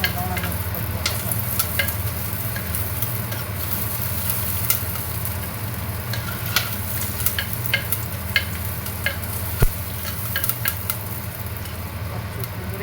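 Shallots, green chillies and curry leaves sauté together in hot oil for a Kerala fish curry, a constant close sizzle broken by repeated sharp spoon scrapes and taps against the pan.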